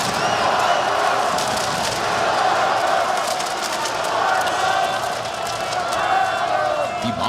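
Crowd in a Counter-Strike esports arena at the PGL Astana 2026 grand final cheering for Team Falcons, a broad sustained roar with chanting swells, loud and filling the space, under a caster's commentary.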